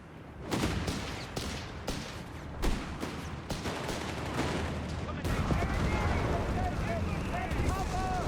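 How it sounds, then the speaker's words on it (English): Incendiary artillery barrage in Company of Heroes 3: a run of sharp blasts and impacts at a steady pace, then a denser rumbling stretch of fire and shelling under continuous commentary. "Heartless Jaeger with another incendiary barrage"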